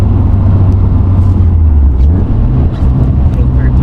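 Car engine revving hard after a missed shift with a short shifter, a loud steady low drone throughout about four seconds with a brief dip near the end, voices faintly present underneath.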